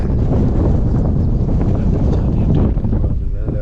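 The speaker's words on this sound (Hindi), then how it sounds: "बहुत ठंडी हवा चल रही है" Cold wind sweeps across Karambar Lake in the Broghil Valley, a loud, steady gusting rush buffeting the microphone throughout with no letup.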